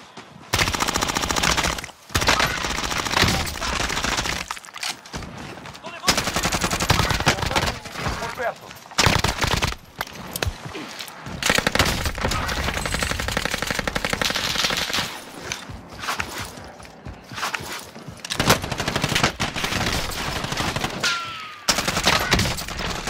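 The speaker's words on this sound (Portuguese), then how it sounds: "Estão atirando em mim!" Sustained machine gun fire in Call of Duty Warzone, long loud bursts of rapid shots with short gaps between them, dense and close throughout.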